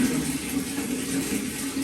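Water gushes strongly from a newly installed shower in a tiled bathroom, a steady, dense rushing spray close by with no talk over it.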